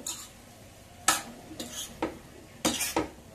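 A spoon stirring a brinjal, tomato and pea curry in a pan, making a handful of distinct scraping strokes over a faint sizzle, close and moderately quiet with no talking.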